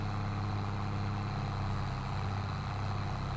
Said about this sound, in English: Love the engine tone when this tractor's working hard.